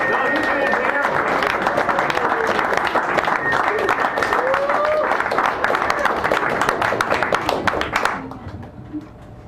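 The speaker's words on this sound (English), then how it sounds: "Give them a round of applause." Dense applause from a cafe audience at a poetry reading, steady and full for about eight seconds before fading quickly, with some voices mixed in.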